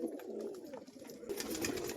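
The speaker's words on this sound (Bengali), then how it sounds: "সব পায়রা কিন্তু এখন ছাড়া আছে।" Free-flying Rajshahi and crested pigeons coo outdoors, soft rolling calls that repeat over two seconds at a low, fairly faint level, with no speech.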